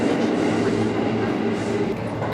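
Tokyo subway train riding along, a continuous rolling rumble with rhythmic wheel clatter and faint squeal, heard from inside the carriage at moderate level.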